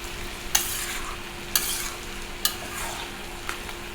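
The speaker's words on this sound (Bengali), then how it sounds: "আর এদিকে আমি এক চুলায় মাছ ভাজছি" Fish frying in a pan on a home stove, a steady bright sizzle of oil with a few sharp clinks of a utensil stirring or turning the pieces at intervals.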